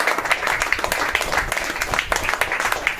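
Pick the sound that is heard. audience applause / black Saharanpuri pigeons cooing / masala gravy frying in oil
audience applause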